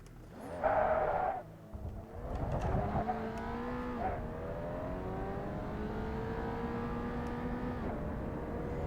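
A race car in the iRacing simulator downshifts too early and locks its rear wheels. A brief squeal and a burst of engine noise come first, then a steady rising engine whine, loud and close, with no voices.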